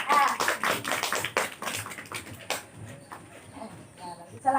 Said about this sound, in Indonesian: Ya, kasih tepuk tangan untuk kelompok A.